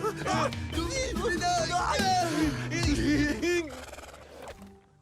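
Cartoon horses neigh in a stable, several quick, wavering whinnies overlapping one another before fading out, with music or voices mixed in.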